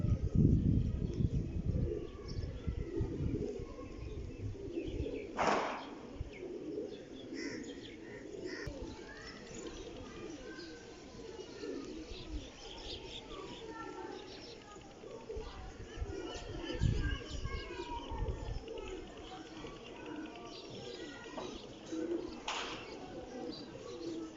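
Pigeons cooing softly as they descend to land in the afternoon after a morning release, with a brief flutter of wings partway through, amid steady outdoor background noise.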